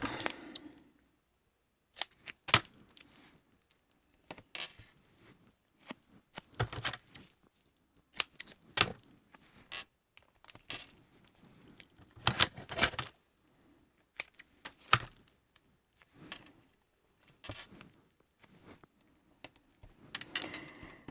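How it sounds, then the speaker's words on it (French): Scissors snip paper for scrapbooking in short, sharp clicks and bursts close by, with quiet pauses between cuts. "Hop. mon ciseau."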